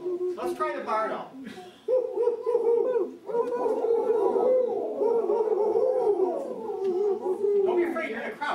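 A group of people imitate a barred owl, voicing overlapping, wavering hooting calls that rise and fall, fairly loud and close, with a few voices talking at the start.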